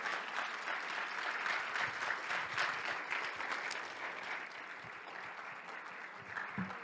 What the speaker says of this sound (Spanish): Un fuerte aplauso, por favor, al ingeniero.